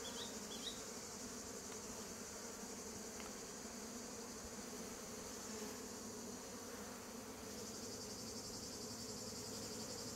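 Honey bees streaming out of traditional hives outdoors, a steady dense buzzing hum from many insects close by, continuous throughout with no voices.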